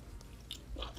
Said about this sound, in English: I'm eating another piece of chicken.